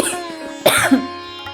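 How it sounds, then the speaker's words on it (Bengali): A single sharp cough bursts out close by, followed by a shorter second hack, with quiet background hum before and after. "একটু কাশি হচ্ছে"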